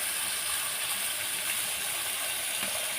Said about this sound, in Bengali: জলটা আমি উপর থেকে আস্তে আস্তে করে দিই।